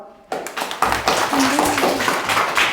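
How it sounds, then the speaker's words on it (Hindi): A group of children in a classroom breaks into hand clapping after a song, starting abruptly and continuing as a loose, moderately loud patter of claps with some overlap of voices. "ताली बजाओ।"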